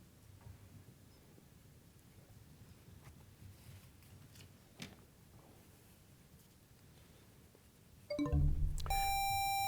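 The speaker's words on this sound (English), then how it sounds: "That's after the buzzer" A quiz-bowl buzzer blares suddenly near the end, a loud sustained electronic tone after a long stretch of quiet room hiss at a high school varsity quiz match.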